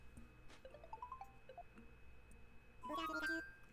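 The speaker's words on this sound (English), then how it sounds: "Hold the phone. Someone's calling." A phone rings in the video game Animal Crossing: New Horizons: a bright electronic chime rising in steps, then a denser jingle near the end over soft background music.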